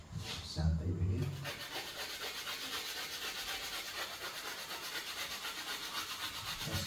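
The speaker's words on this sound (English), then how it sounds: "Now first of all, let's grind a little bit my charcoal." A coarse charcoal stick ground against sandpaper for a portrait drawing, giving a steady, close, rhythmic scratchy rubbing that continues evenly after a brief louder scrape at the start.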